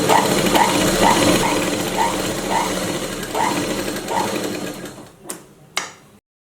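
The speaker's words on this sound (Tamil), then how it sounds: "கரெக்ட்டா ஒரு 1/2 இன்ச் தையல் போட்டுக்கோங்க." A sewing machine runs steadily while stitching a half-inch seam on a blouse, its needle knocking in a regular repeating rhythm close to the mic. The motor stops near the end and two sharp clicks follow.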